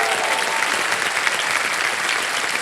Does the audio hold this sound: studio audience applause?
yes